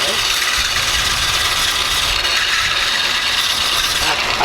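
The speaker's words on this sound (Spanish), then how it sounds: "Vamos ahí para cortar la madera" A blade cutting wood for a plena pandero frame drum, a steady, dense, hissing rasp that stays loud and unbroken throughout with no pauses.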